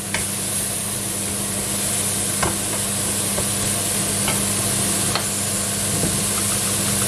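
Two tablespoons of flour stirred into lightly melted, unbrowned butter in a pan to start a roux for a seafood blanquette, a soft steady sizzle under scattered scraping strokes and faint clicks of the utensil, close and uninterrupted, no talking.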